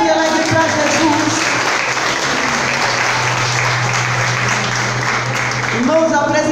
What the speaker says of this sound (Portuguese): Então dá uma salva de palmas bem alegre para Jesus.